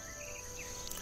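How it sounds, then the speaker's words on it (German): Crickets chirp in the video game The Night of the Rabbit, a faint, steady high trill over a quiet ambient background, with no voices. "Weil ich höre immer noch ein Zirpen."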